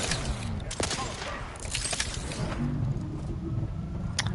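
Gunfire in the video game Outer Worlds 2: a sharp crack near the start and scattered shots with impacts over a dense, busy mix of game sound, with a low tonal hum later on.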